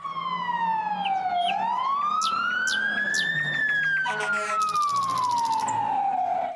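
A loud electronic toy fire truck siren wails up and down continuously, toy-like and close, with some beeping tones layered in partway through.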